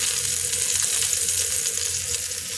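Eggplant frying in hot oil, a loud, even, close-up sizzle that holds steady for the whole stretch without any voices.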